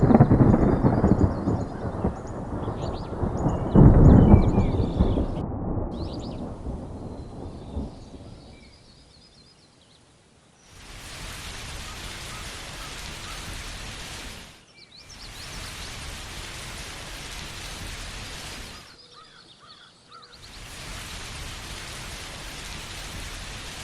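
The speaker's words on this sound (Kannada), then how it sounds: "ಮರುದಿನ ಭಾರೀ ಮಳೆ, ಗಾಳಿ, ಮರ ಅಲುಗಾಡಿತು." Heavy rain and wind sweep over a village with a big banyan tree, and thunder rumbles; a dense downpour first, then bursts of hissing rain separated by short quiet gaps.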